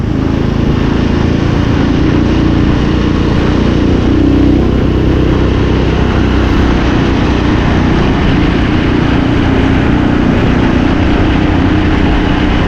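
A motorcycle runs loud and near on a country road, its engine holding a steady, rough drone that never drops away.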